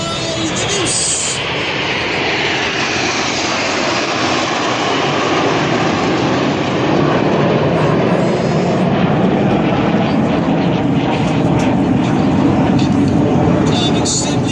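A Red Arrows jet trailing smoke at the Rhyl Air Show 2014, a broad, loud roar that holds steady and swells slightly toward the end, with an announcer talking over it.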